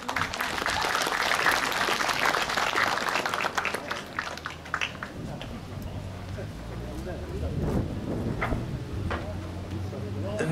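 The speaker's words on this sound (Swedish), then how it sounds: "En applåd till sen." Audience at a club honorary-guest evening applauds in a steady, moderately loud burst of clapping that thins out and gives way to scattered claps and room murmur.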